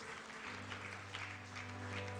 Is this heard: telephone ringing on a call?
no